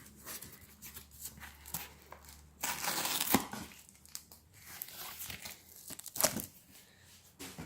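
Taped trading card being peeled free of its packaging: close, dry crinkling and tearing bursts of plastic and tape, with two sharper rips standing out among softer rustles.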